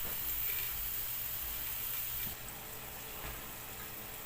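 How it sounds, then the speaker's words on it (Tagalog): Ground pork fries in a pan with a steady, faint sizzling hiss that continues evenly, then softens slightly partway through, with no talk. "Medyo prito po natin ng konti para po kahit paano po yung baboy po mas mabilis po siyang lalambot"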